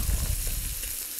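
Asparagus sizzling in a hot pan while being fried for a farro risotto, a steady close crackle and hiss that is loudest at the start, with no talking.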